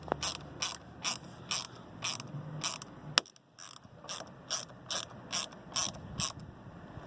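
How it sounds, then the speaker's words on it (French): A Torx 40 screwdriver drives short screws into a Jeep Wrangler JL soft top frame, giving a steady run of sharp, evenly spaced ratchet clicks, close and fairly loud, with a brief pause midway. "Il va falloir mettre une vis ici et ici. avec le même Torx 40 que tantôt et les vis courtes."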